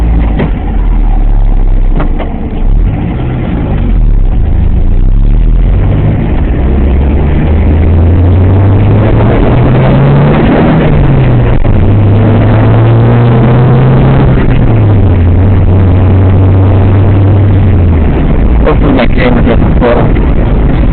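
A car engine inside the cabin rises and falls in pitch through gear shifts while the driver manoeuvres around a garbage truck, a steady loud drone with rev swells, no talk over it.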